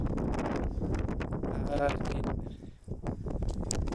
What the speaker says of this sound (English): It is just too windy here, especially in a rooftop tent like this